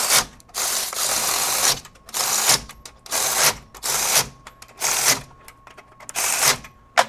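DeWalt DCF510 20V sealed-head cordless ratchet runs bolts back on in six separate bursts of loud whirring and clicking, each lasting under a second, with short pauses between them.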